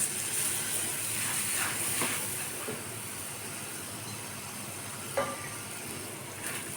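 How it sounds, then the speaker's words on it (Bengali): Semai vermicelli fries in melted butter in a pan, giving a soft, steady sizzle and hiss with a few faint clicks and no talking. "বাটারটা গলে গিয়েছে, এ পর্যায়ে আমি সেমাই অ্যাড করে দিচ্ছি।"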